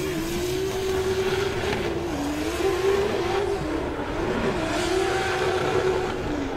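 Drift cars, a Subaru BRZ and a BMW E34, race at a Pure Drift event, with engines revving hard in a sustained, wavering roar that rises and dips as the cars slide, loud and continuous, with no speech.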